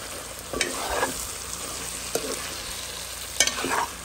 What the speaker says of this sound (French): Un petit coup de cuillère dans le marmite.